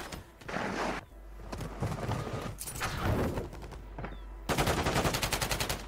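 Automatic rifle fire from a Call of Duty Warzone match on Rebirth Island, with dense bursts filling the clip and a steady rapid-fire stretch at the end, loud and close.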